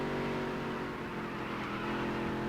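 A race car engine in the game Dirt to Daytona drones steadily while lapping, a continuous tonal motor hum with slight pitch shifts, moderately quiet and without talk.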